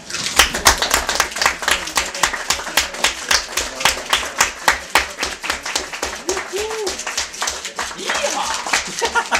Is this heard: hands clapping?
yes